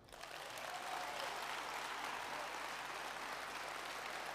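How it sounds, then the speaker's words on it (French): A political rally audience applauds, clapping swelling quickly and then holding as a dense, steady roar of hands. "Applaudissons-la."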